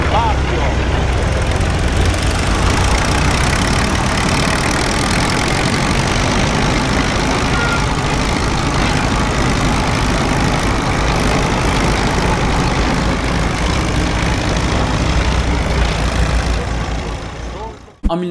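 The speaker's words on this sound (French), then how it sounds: "Fiat 80R Gerardo Paterniano, alla guida Fabio." A Fiat 80R tractor engine runs steadily for the whole stretch, a loud, even low rumble that stays constant before cutting off abruptly at the end.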